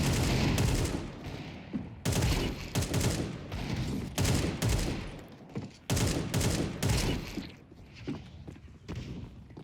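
Rapid bursts of automatic gunfire in Counter-Strike 2, loud repeated volleys broken by short pauses, close and dense throughout.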